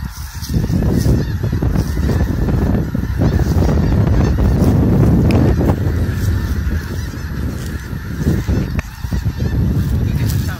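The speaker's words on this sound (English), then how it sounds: "What do you think of the geese, Lynn?" A large flock of snow geese honking continuously in a back yard, a dense overlapping chorus of many calls, loud and close throughout.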